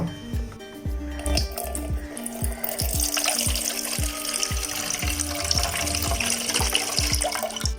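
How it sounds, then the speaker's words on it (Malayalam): Butterfly pea flowers rinsed under running tap water in a kitchen, steady splashing water with squishy handling and repeated low thumps, close by and without talking. "ഇതില് വിഷമൊന്നും അടിക്കാത്തത് കൊണ്ട് തന്നെ ചെറുതായിട്ടൊന്ന് കഴുകിയെടുക്കാം"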